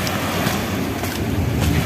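Ocean waves wash onto a beach on Cheung Chau island in Hong Kong, heard as a steady broadband surge mixed with gusting wind buffeting the microphone, with no talk over it.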